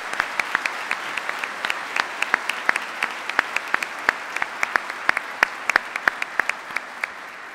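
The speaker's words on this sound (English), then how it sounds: "How about we all give her a round of applause?" A lecture hall audience at a Landon Lecture with General Martin Dempsey gives sustained applause. Many hands clap densely and evenly at a fairly loud level for the whole stretch, with no speech on top.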